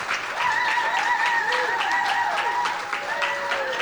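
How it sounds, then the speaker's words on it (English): An audience claps through the whole stretch at an outdoor flag-raising ceremony for the Black Liberation Flag at Seattle City Hall. The applause is steady and fairly loud, with faint tones in the background. "I'm gonna enjoy those claps right now"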